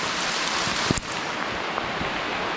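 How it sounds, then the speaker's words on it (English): Heavy rain pours down in a Vietnamese jungle, a steady dense hiss of downpour on foliage with one brief knock partway through. "It's really starting to downpour now."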